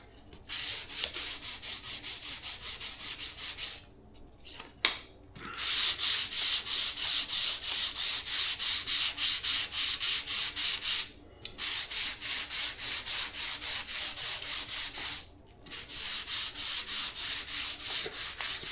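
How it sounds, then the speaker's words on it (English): Hand sanding a Piper J3 Cub wing with 400-grit sandpaper: steady, close back-and-forth rubbing strokes in long runs, broken by a few short pauses, with no voices. "they recommend sanding with at least 400 grit before covering"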